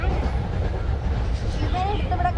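A passenger train nears Mookambika station, its steady low rumble and rolling rail noise continuing throughout, with people talking nearby over it.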